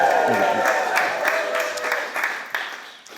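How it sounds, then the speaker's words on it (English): An audience claps and cheers on cue at a live talk, a dense wash of applause and crowd noise that slowly fades, mixed with speech. "And the crowd goes wild."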